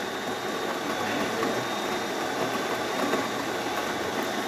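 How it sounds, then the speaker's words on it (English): A Delonghi Magnifica S super-automatic espresso machine grinding beans on its third grind setting gives a steady, loud, gritty mechanical whir with a rough buzzing texture that runs unbroken for several seconds, close up and alone. "Now we're going to let it grind and it's going to tamp the coffee down."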